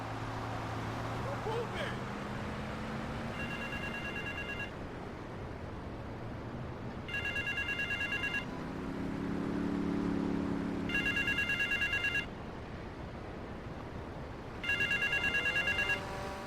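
A payphone rings in GTA Vice City, four repeated bursts of ringing spread evenly across the stretch over a steady bed of city ambience, with a low engine hum swelling in the middle.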